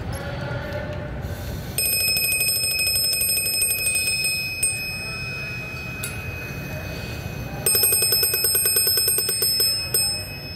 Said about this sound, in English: to see when my little air alarm goes off